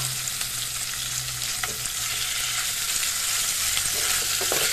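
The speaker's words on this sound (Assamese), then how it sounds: "এতিয়া মই ফ্ৰাই কৰি থোৱা মাছখিনি দি দিছোঁ" Pieces of previously fried fish sizzle steadily in hot oil with onions in a frying pan, a dense continuous hiss with a few light utensil taps, close and fairly loud.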